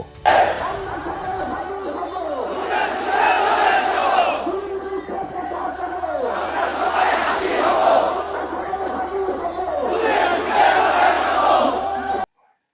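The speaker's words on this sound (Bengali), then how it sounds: "উপস্থিত জনস্রোত স্লোগান তুলেছিল, আমরা সবাই হাদী হব, যুগে যুগে লড়ে যাব" A dense funeral crowd chants slogans in rhythmic waves, loud massed voices surging and falling in repeated phrases, near and continuous with brief pauses between bursts.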